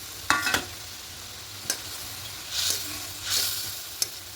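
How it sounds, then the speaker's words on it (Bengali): Fried fish being added to a pan of mustard gravy, with several short sizzles, a couple of soft stirring scrapes and brief clicks over a quiet, steady background. "এবার ভেজে রাখা মাছগুলো দিয়ে দেবো"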